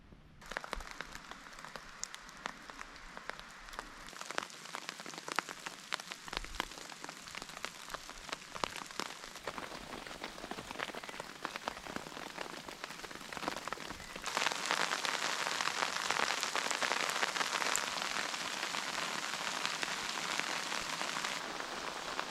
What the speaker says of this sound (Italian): quale meglio test della grandine vista a neve?